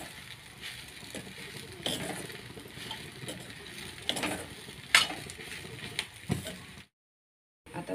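Food for a sushila breakfast dish is sautéed in a pan for about a minute, a soft sizzle broken by several louder scraping stirs, before the sound cuts to silence near the end.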